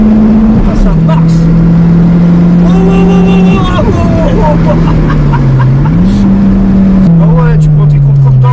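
Opel GTC Turbo with a stage 3 tune, about 250 hp, holds a loud, steady engine drone through the whole stretch, pitch stepping up and down as it pulls and shifts, while people talk over it inside the car.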